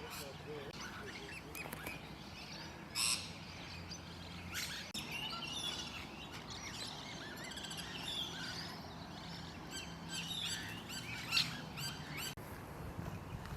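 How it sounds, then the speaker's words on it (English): Noisy miner birds calling in an Adelaide suburban park, sharp chattering chirps and squeaky calls scattered throughout, with a couple of louder bursts standing out over a quiet outdoor background. "Noisy miner populations have exploded in recent times"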